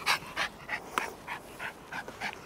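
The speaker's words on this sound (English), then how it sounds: "Here's dog." A dog pants close by in quick, rhythmic breathy bursts beside a freshwater lake, loud and steady with no talking.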